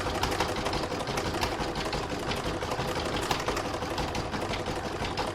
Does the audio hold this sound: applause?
no